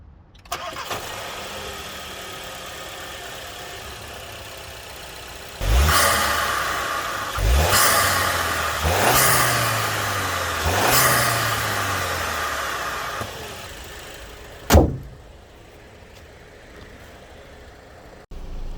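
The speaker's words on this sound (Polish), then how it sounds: "Tak pracuje silnik." Seat Leon Sportstourer 2.0 TSI petrol engine with a 7-speed DSG, heard close: a steady idle, then three sharp revs rising and falling, a final quick blip, and a drop back to a quieter idle.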